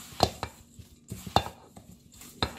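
Prepared ginger being stirred with sugar for ginger jam gives a few sharp spoon clinks and scrapes at uneven intervals, close and fairly quiet, with no talking.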